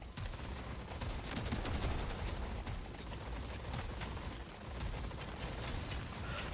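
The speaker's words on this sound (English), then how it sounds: "Try and shoot more bullets." Rapid gunfire from the video game Deep Rock Galactic Survivor, a dense continuous barrage of shots with no pauses, steady and loud throughout.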